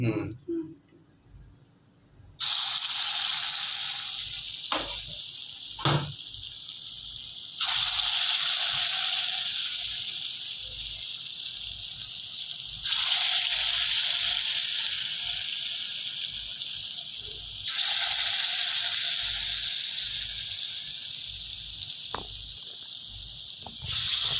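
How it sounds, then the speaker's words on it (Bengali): Lentil fritters (bora) frying in a pan of oil, giving a steady loud hiss that swells and fades in long bursts, with brief clatters between and a voice speaking over it. "তো দেখো এখানে বড়াগুলোকে আমি লাল লাল করে ভেজে নিচ্ছি"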